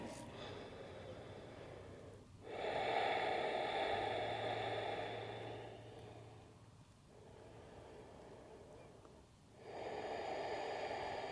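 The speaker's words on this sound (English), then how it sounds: "Let's take 5 breaths from here." Slow, deep breaths during a relaxation exercise in a therapy-ball core-release class, heard as three long airy inhale-exhale swells with short pauses between them, close and fairly soft, with no talking.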